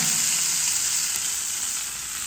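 Tempering (oggarane) in hot oil, added on top of elephant foot yam kootu, sizzles loudly and evenly up close for a couple of seconds, fading slightly at the end, with no one speaking.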